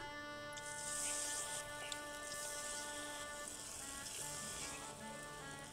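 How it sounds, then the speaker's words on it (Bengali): Taro fritters (shola kochur bora) sizzle steadily in hot oil, a continuous bubbling crackle at moderate level with no talk over it. "এবারে এক এক করে বড়া দিয়ে দিচ্ছি তেলে।"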